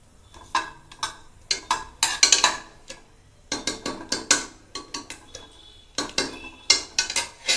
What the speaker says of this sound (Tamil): ஒரு பட்டை, 2 லவங்கம் அதெல்லாம் போட்டுறோம்.